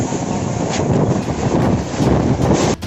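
Tornado-strength whirlwind winds batter a rural settlement in South Kalimantan, Indonesia, a loud continuous roaring rush of wind buffeting the microphone without letup.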